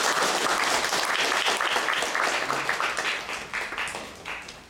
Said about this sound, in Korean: 우리 박수 한번 다시.